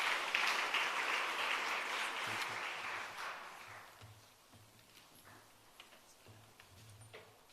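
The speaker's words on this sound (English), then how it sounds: "Can we give him a round of applause as he comes?" Workshop audience applauding a speaker as he comes up, a broad clapping wash loud at first and fading out by the middle, leaving quiet room noise and a few faint taps.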